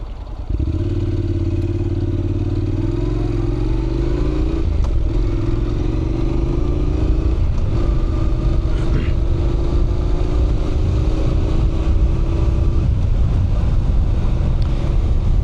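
A Honda NC700X motorcycle is ridden at speed, its engine humming loud and steady as the pitch climbs through gear changes, with wind rushing across the microphone.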